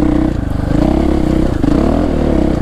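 A dirt bike engine droning loud and close while riding technical single track in the Arizona desert, revving up and down with rough clattering underneath, continuous throughout.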